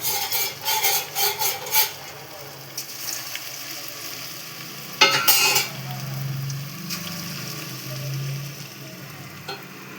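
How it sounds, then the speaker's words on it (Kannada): Onion pakoda batter drops into hot oil and fries, bursts of bubbling sizzle with a few utensil clinks and scrapes, then a calmer steady fry, close and moderately quiet with no talk. "ನೋಡಿ, ಇವಾಗ ಎಣ್ಣೆ ಕಾದಿದೆ. ಇವಾಗ ಹಿಟ್ಟನ್ನ ಸ್ವಲ್ಪ ಹಿಂಗೆ ತೆಗ್ದು ಬಿಡೋದ."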